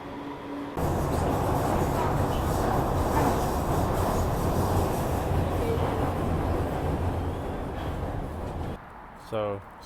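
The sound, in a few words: Beijing metro subway train riding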